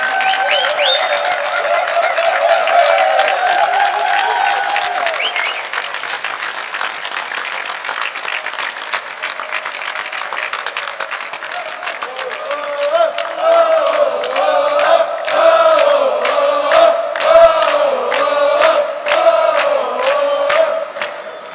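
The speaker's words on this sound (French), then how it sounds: "Mais vraiment, applaudissez-les!" An audience at a choir concert in Walcourt applauds loudly and at length, with rhythmic clapping running throughout while sustained voices rise over it, nearby and strong.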